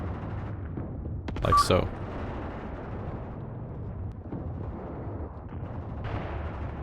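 Artillery gun in the WW2 video game Mius Front fires a single brief, sharp boom amid low rumbling battlefield ambience, while someone talks.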